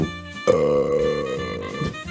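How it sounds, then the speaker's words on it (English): A single long, loud, voiced burp close up, lasting nearly two seconds with a rough throaty tone. "I burped."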